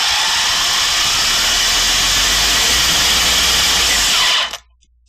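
A brushless RC motor driven by an LT4-120 ESC runs at full throttle as a loud, steady high-pitched whine. It holds constant for over four seconds, then cuts off sharply into near silence.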